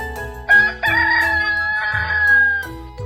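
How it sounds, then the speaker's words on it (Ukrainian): A rooster crows loudly and close by, one long drawn-out call with a few sharp clucks at its start. "Півник рано вставав, своїм співом всіх будив"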